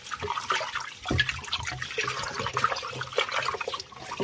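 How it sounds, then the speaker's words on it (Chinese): Pork bones rinsed in a bowl under a running tap, a steady close rush of water with sloshing and splashing throughout, no voices. "然后放到流动的清水下面给它洗一下，给它多清洗2遍，直到把水洗清为止。"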